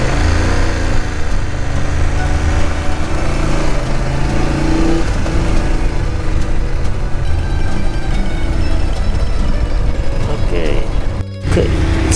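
Many motorcycles riding on the crowded Stelvio Pass mountain road, engines droning and revving loudly and continuously close by, with voices talking over them.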